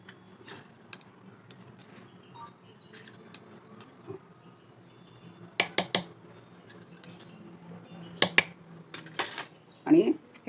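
A spoon clinks a few sharp times against a cooking pot while garam masala is added for a shahi mutton biryani, the taps clustered in short bursts over a quiet kitchen background.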